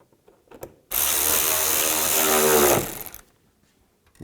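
Power tool driving 7mm screws into a headlight assembly on a 2010-2017 Chevrolet Equinox, a steady whirring ratchet-like burst of about two seconds, close and loud, with faint clicks before and after.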